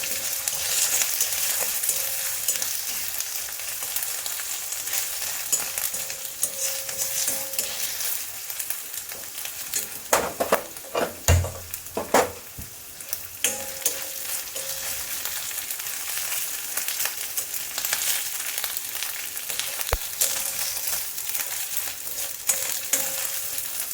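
Ridge gourd dal sizzles in a pan while being stirred. A constant frying hiss runs throughout, and a cluster of knocking spoon-against-pan stirs comes midway.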